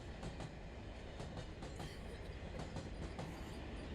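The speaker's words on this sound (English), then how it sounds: "did she really jump off the moving train like that?" A moving train in a film scene runs throughout as a steady, loud rumble of rail transport with a repeating clickety-clack of wheels over the track joints and faint wheel squeals, with no voices.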